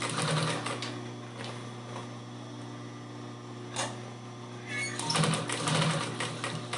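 A sewing machine stitches a cosmetic case in short, slow, rattling bursts, pausing between runs as the fabric is turned, heard up close.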